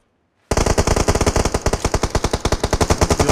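Automatic gunfire in PUBG Mobile on the foggy Erangel map: a loud, rapid and evenly spaced burst of shots that starts abruptly after a brief silence and keeps firing steadily.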